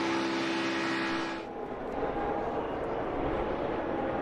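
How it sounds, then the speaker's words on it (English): NASCAR stock cars roaring at speed at Talladega during the Geico 500 finish, a dense, loud engine drone that shifts in tone midway as the pack passes, with no talk. "Brad Keselowski wins Talladega as 1 car goes sliding, spinning, then slamming into the inside wall."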